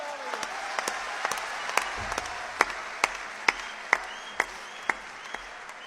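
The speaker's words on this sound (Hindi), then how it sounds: "एक बार जोरदार तालियां बजा दीजिए।" An audience at a Hindi poetry recital gives sustained applause, a dense wash of clapping with sharper individual claps ringing out at a steady pace, close and moderately loud.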